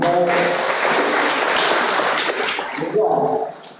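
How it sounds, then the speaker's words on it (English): Audience applause at a university career fair for a school of physical sciences, a dense steady wash of clapping from a crowd that fades out near the end, with voices faintly mixed in. "Clap."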